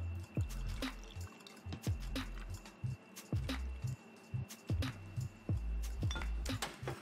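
East Imperial tonic water poured over ice into a glass, heard as quiet drips, trickles and soft ice clinks in an irregular, close-up pattern.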